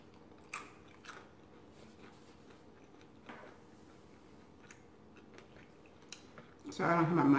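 Crunchy Filipino food, pork sisig, crispy mussels and lumpia, is chewed in scattered faint bites over quiet room tone, ending in a louder burst of noise.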